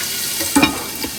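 Watery vegetables laid flat in a pan, frying in vegetable oil over medium heat, giving a close, constant hiss of sizzling with a soft utensil knock midway.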